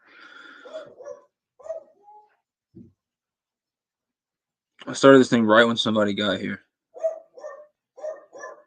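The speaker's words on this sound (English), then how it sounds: "Dogs are going nuts." Dogs bark in short, scattered bursts in the background at moderate distance, with someone talking over them in the middle.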